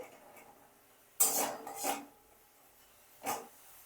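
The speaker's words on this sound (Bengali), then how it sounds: "এইভাবে কিন্তু ক্রমাগত এটাকে নাড়তে থাকতে হবে, নালে কিন্তু তলায় লেগে যাবে।" Jaggery syrup being stirred in a pan for steamed puli pitha: a few scraping, rasping strokes of a spoon against the pan bottom, close and fairly loud, separated by quiet pauses.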